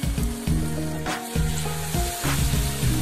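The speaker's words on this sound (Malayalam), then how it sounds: "ഇതിൽ പഴം ചേർത്ത് കഴിഞ്ഞാൽ പിന്നെ നമുക്ക് മീഡിയം ഫ്ലെയിമിലേക്ക് വെച്ചിട്ട് ഫ്രൈ ചെയ്താൽ മതി" Banana fritters in maida batter frying in hot oil on a medium flame, a steady close sizzle with bubbling crackle and a few brief pauses, no talking.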